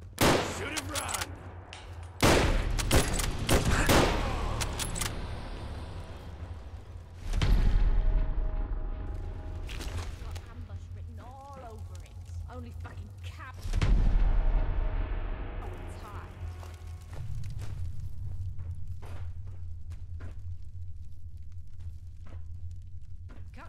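Gunfire in the video game Fallout London: several loud bursts of shots and rapid fire separated by quieter stretches, with voices heard between them.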